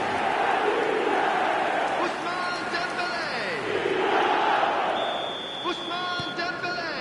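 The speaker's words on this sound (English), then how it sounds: "Now the crowd are demanding that they just finish this off" A football video game stadium crowd roars and chants in a rolling, swelling wash of voices, loud and sustained, with brief whistle-like tones and cheers rising through it.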